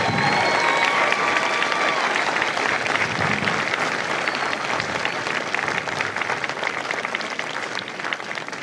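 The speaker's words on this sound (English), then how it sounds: "let's give them another round of applause for a great performance" Sustained applause from a large outdoor audience after a Marine Battle Colors Detachment performance at the MCRD San Diego centennial celebration, dense and steady throughout with faint crowd noise and a few cheers mixed in.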